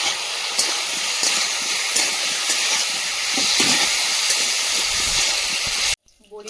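Lentil dumplings (bori) fry in hot oil in a home kitchen, giving a loud, continuous hissing sizzle with faint stirring clicks that stops abruptly near the end.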